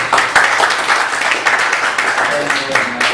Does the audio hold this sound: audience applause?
yes